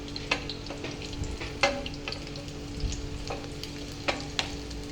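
Cashews fry in oil in a pan for a chicken dish, with a steady sizzle and occasional sharp spoon clinks against the pan as they are stirred.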